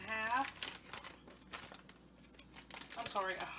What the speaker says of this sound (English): Get some scissors because I can't get the package open.